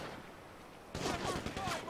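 Gunfire bursts in GTA 5 during a zombie apocalypse mod at a prison, a rapid rattling fusillade that starts abruptly after a quieter stretch, loud and close, with a voice talking over it.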